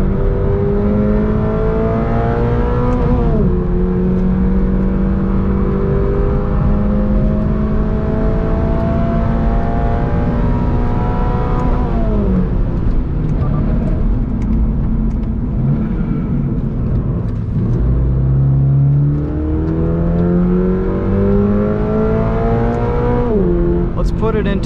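A 2022 Toyota GR 86 Premium with an automatic transmission revs hard on a track, the engine note repeatedly climbing and dropping through gear changes, loud and continuous with a person talking over it throughout.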